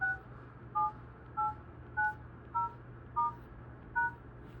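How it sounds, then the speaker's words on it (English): A phone dialer plays seven short, evenly spaced DTMF keypad tones, each clean and distinct, over a steady low background hum. "phone dialers emit DTMF tones,"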